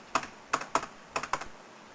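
Five crisp key presses on a computer keyboard, closely miked, arriving in an uneven rhythm of single taps and quick pairs, with no voice.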